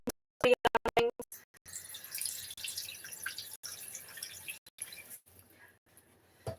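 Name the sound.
adding hot water to a pot while cooking rice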